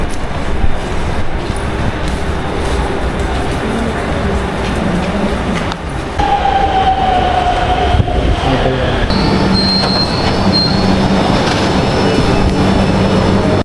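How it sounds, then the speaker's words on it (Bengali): A Namo Bharat rapid rail train near Delhi, also called a mini bullet train, heard from on board as a loud steady rumble with a brief rising whine and faint high squeal. "নবভারত ট্রেন, সাধারণ ভাষায় একে মিনি বুলেট ট্রেনও বলা হয়ে থাকে"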